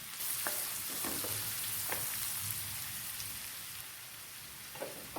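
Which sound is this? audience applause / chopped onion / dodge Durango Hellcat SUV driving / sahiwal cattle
chopped onion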